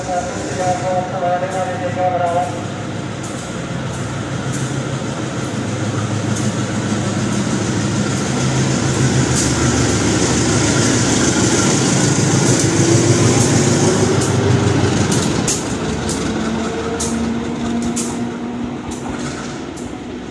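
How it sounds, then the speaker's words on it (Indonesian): A service locomotive runs straight through a station without stopping during the 2022 Mudik holiday season, a loud, steady rolling rumble with rapid wheel clicks and rattles that builds and holds throughout, with a voice briefly heard. "Tujuh Timur melintas langsung lokomotif dinas"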